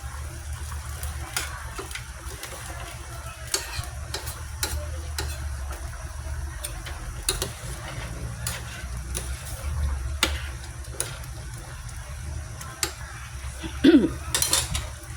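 Chicken kaldereta stirred in a pan, a steady low sizzle of frying under repeated light scrapes and clinks of a utensil against the pan, fairly close, with no talking.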